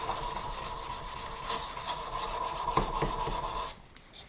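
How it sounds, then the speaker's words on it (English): Knife blade being hand-polished with 150 grit abrasive, a steady close rubbing rasp lasting nearly four seconds before stopping abruptly, with no talking. "But I'm just starting to polish on the blade. 150 grit"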